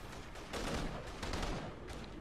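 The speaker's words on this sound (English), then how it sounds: "I hear gunshots" Gunshots in the video game InFamous, faint, distant bursts of gunfire with a couple of louder swells, under a noisy ambient background and no voices.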